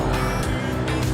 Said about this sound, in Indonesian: Ya, itu suara motor.